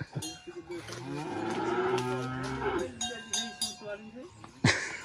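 Ox mooing on a dairy farm in Paraíba, Brazil, one long, loud, nearby bellow with a cowbell clinking and brief voices around it.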